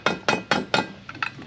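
Hammer blows land on a driveshaft bearing cap, four sharp metallic strikes in steady rhythm, close and loud, followed by two lighter taps.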